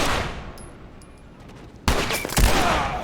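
Gunfire in The Last of Us: after a quiet stretch of faint ambient game sound, a loud burst of rapid shots erupts and continues with sharp repeated cracks to the end.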